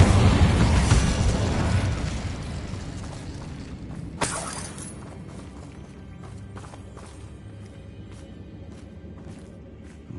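Incendio fire spell cast in Hogwarts Legacy, opening with a loud, whooshing burst of flame that fades over several seconds, punctuated by a sharp crack midway and followed by quieter scattered crackles and thuds.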